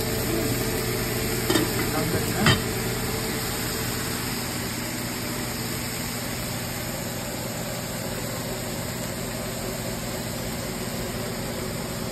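Greens sizzling in hot oil in a home kitchen, a steady loud frying hiss throughout with a couple of faint stirring clinks early on; no talking.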